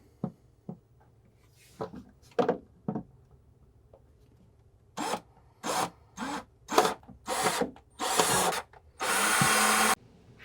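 A power drill with a small bit whirs in short bursts, drilling up from underneath a car, some clicks and scrapes first, then several drilling runs ending in a longer sustained drill, close by.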